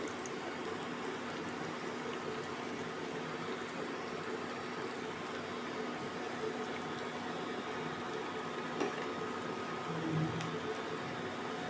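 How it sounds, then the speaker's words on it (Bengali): Moong and masoor dal fritters (bora) frying in hot oil give a steady, even sizzle throughout, moderately quiet and continuous with only slight fluctuations. "এভাবে কিন্তু বাকি বড়াগুলোও ভেজে নিতে হবে।"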